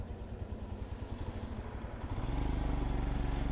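Motorcycle riding along a dense forest ghat road in Sathyamangalam, a steady pulsing engine drone close by that grows louder and heavier partway through, with no talk.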